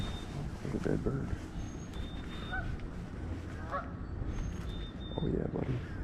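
A goose-like bird calls with short honks outdoors at a North Carolina bass fishing spot, repeated a few times at moderate distance over steady background noise, with someone talking now and then.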